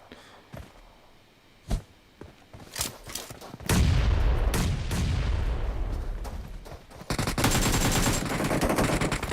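Gunfire in the battle-royale game PUBG Mobile during a tournament match: scattered single shots at first, then a sustained loud burst of rapid automatic fire that continues to the end, with no talk.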